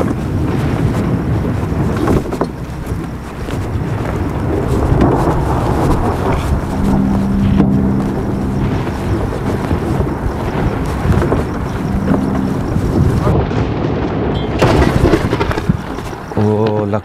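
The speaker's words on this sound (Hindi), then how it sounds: "लगता है तूफान आएगा।" A storm with wind and thunder roars loud and steady throughout, with gusting wind buffeting the microphone and deep rumbles beneath, continuous for the whole stretch.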